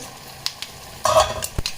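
Mustard seeds for tempering hit hot oil with a sudden close burst of crackling sizzle, preceded by a few light clicks and followed by scattered pops.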